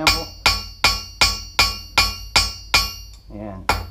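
A blacksmith's hammer strikes hot steel on an anvil while forging tongs: about nine evenly spaced, ringing blows, close and loud, with a short gap before the last strike.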